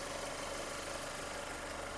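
A Mercedes-Benz C-Class 1.8 supercharged (compressor) engine idles with a steady, low hum, even throughout, close by and unbroken, with no voices.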